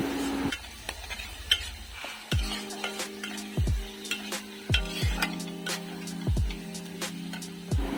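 A spoon stirs sizzling masala with turmeric powder in a pan, striking the pan in repeated metallic clanks and scrapes roughly every half second to second over a soft frying hiss, close and without speech.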